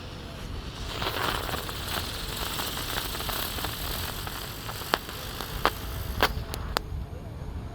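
A jumbo spinning ground firework whirls fast, giving a dense continuous hissing roar with scattered sharp crackles and pops toward the end, loud and close outdoors.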